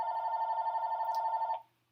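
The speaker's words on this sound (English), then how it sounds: "Oh, there goes my phone." A phone rings once, a steady electronic warbling tone held for about a second and a half before cutting off, clear and alone in a quiet room.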